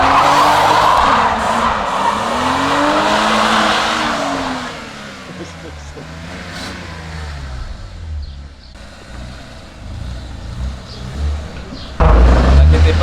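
A family car's Michelin tyres squeal loudly as its engine revs in a burnout to test the limited-slip differential, the wheel spin rising and falling for several seconds before fading into rumbling and a sudden loud burst near the end.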